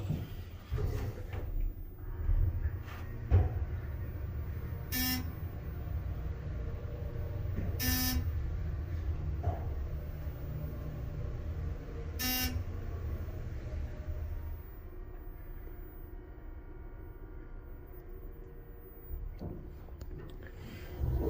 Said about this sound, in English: That is probably the funniest floor passing chime I've ever heard.